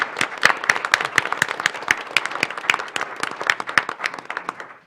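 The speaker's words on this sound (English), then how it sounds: "So why don't we give him a round of applause?" A city commission meeting crowd applauds a retiring fire chief, Chief Tuller: dense, close, energetic clapping from a room of people, sharp individual claps standing out, sustained throughout before fading at the very end.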